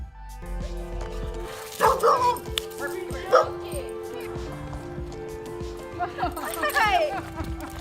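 A dog reunited with its owner after years apart gives several short, close yips and whimpers, with people talking over and between the sounds.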